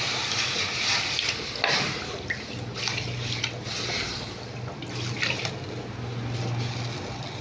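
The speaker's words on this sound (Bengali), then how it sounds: "এই যে ধুয়ে নিয়ে এসে বসিয়ে দেবো ডালটা ধুয়ে" Lentils (dal) washed in water, with sloshing and swishing of water and grains in a vessel, continuous and moderately loud, with a few stronger splashes and no talking.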